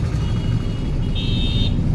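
Steady road traffic rumbles in Ludhiana, with a continuous low drone of passing vehicles and a thin high tone near the end. No voices are heard.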